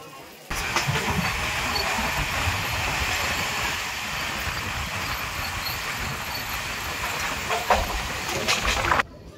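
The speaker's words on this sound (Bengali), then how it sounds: "বৃষ্টি ভেজা বাগনানকে বিদায় জানিয়ে আমরা বেরিয়ে যাচ্ছি।" A MEMU local train pulls out of Bagnan station on a rainy night, producing a continuous, loud broadband rumble and hiss of the moving carriage with occasional rattling bumps.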